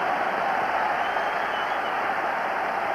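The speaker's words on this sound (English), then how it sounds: "So a great cheer goes up as Charlie Miller starts to warm up" A football stadium crowd at Rangers against Anorthosis Famagusta cheers and claps in a steady, dense wash of noise that holds at an even level.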